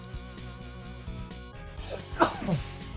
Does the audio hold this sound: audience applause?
no